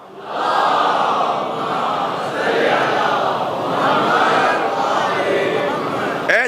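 A large crowd at a Shia religious gathering loudly chants salawat in unison, a dense sustained roar of many voices that swells and holds for several seconds.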